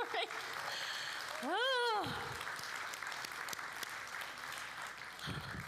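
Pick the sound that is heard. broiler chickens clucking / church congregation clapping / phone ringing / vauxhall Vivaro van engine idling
church congregation clapping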